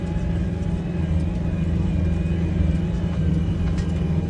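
A tractor pulls an Amazone Catros+ 9003 2TX disc harrow across a field, producing a steady, loud low engine drone and rumble that continues unbroken throughout.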